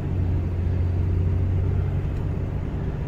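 A 2002 Ford F150 pickup truck after a camshaft position sensor replacement, heard driving as a steady close low engine drone and road rumble with no breaks.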